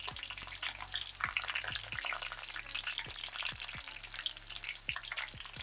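Ladies finger (okra) deep-fries in oil, a soft, steady bubbling crackle close by, punctuated by regular light pops and spatula taps.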